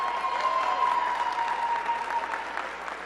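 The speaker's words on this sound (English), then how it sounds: "Let's give Jade and Christian a big round of applause." A crowd claps steadily at a school event with Washington, D.C. mayor Muriel Bowser, moderately loud and continuous for a few seconds, with a faint whistle-like tone running through it.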